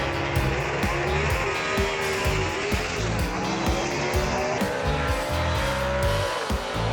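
Gasser drag race cars at Knoxville Dragway launching off the starting line, loud roaring engines with rapid rhythmic pulsing and rising pitch, near and continuous throughout.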